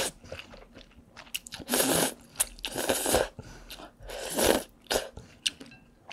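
Crunchy, wet chewing and slurping of hot, very spicy Shin Ramyun The Red instant noodles, close to the mouth, in irregular bursts with short pauses and no talking.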